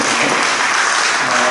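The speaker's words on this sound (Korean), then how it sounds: "우리 박수 한번 해주시겠습니다." Audience applause at a church general assembly policy debate for election candidates, a dense steady clapping from a hall crowd that fills the whole moment at full volume.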